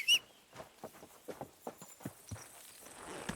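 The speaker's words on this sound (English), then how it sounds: "Good horsey." Horse hooves in the video game Kingdom Come Deliverance 2 clip-clop at a steady walking rhythm, about a dozen close, distinct hoofbeats after a brief high chirp at the start, with no talk over them.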